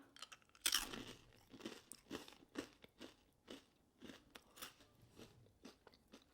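Crisp crunching as someone bites into and chews a cheese-filled Japanese cracker snack, with a sharp first bite and then a steady run of close chewing crunches and no talk.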